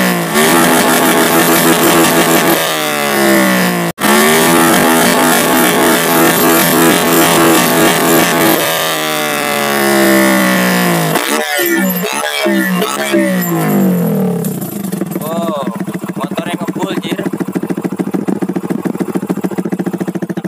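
Motorcycle engine revs hard through an exhaust fitted with a coin, a loud rattling roar with a sharp click early on, then falls back to a fluttering idle with pitch swoops.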